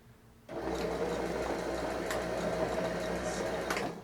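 A sewing machine runs steadily for about three and a half seconds, stitching a seam on a pair of comfy pants, a continuous close whirring hum that starts abruptly and stops near the end.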